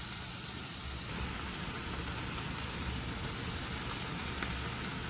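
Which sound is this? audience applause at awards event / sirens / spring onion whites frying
spring onion whites frying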